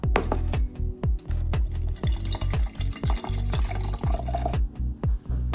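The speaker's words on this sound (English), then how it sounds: "I'm going to be adding coconut water to it" Coconut water pours and sloshes into a pre-workout drink, a close run of liquid splashes and gurgles punctuated by regular low thumps, with no talking.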